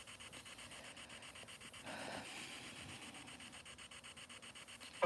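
An old pit bull named Daisy pants steadily up close, quick rhythmic breaths with a faint rubbing rustle, alone and fairly quiet.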